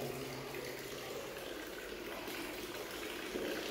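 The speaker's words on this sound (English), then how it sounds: "There's water pissing out the wall." Water gushes steadily out of a wall in an abandoned building, a continuous broadband rushing and splashing. It stays close and loud for the whole span with no talk.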